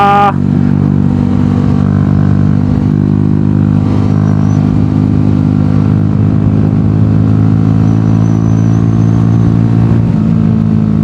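A Honda MSX motorcycle ridden on the road, its small engine holding a loud, steady droning hum close to the mic with little variation.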